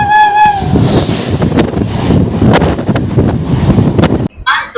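A train stands at a station while a locomotive is coupled on, giving loud rumbling, clanking and heavy wind buffeting against the microphone, with a whistle-like tone at the start and a sharp cut near the end.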